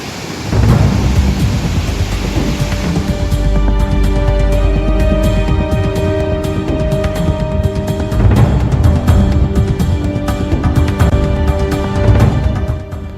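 Heavy rain pours down steadily during a Delhi storm, with repeated rolls of thunder rumbling through the loud, continuous downpour.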